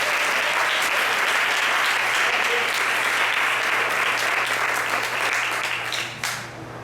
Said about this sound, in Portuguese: receba aplaudindo ao Senhor pela vida do pastor Kleber